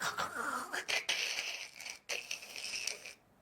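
A man imitates a heavyset roommate snoring with his voice, producing rasping, wheezy breaths in a few short bursts with brief pauses between them.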